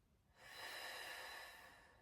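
One long, steady exhale during a Pilates breathing exercise, with hands resting on the rib cage. The breath is close and soft, swells gently and then fades over about two seconds, with no talking.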